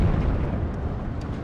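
Artillery shells striking enemy units in the WARNO war game, a single loud, low rumbling blast that rolls on and fades over about a second.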